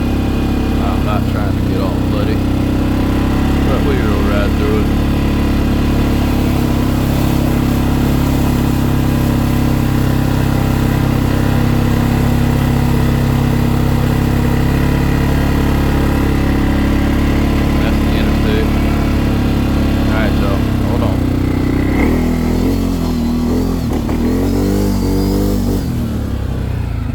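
A 2025 CFMOTO CFORCE 600 ATV engine while riding: a loud, constant throaty drone close by, rising and falling with throttle and sharper revving near the end, with a rider talking over it.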